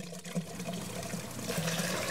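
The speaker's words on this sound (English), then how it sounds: "Let's pour it and see what happens." Soft, close trickle of a water-like liquid poured into a cup, a steady gentle stream that grows slightly fuller toward the end.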